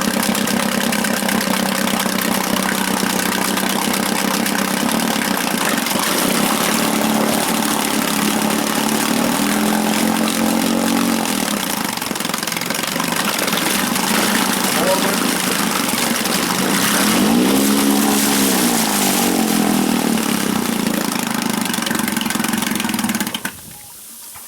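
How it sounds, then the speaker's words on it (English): A small Evinrude Fisherman 6 horsepower outboard motor runs steadily at close range, a continuous mid-pitched drone with water splashing, shifting pitch briefly midway before cutting off near the end. "that's my little Evinrude Fisherman. It's a real quiet motor."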